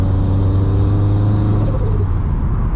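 A turbocharged Subaru BRZ with a slipping clutch drones loudly from inside the cabin, a steady low engine hum that holds near constant and then eases slightly.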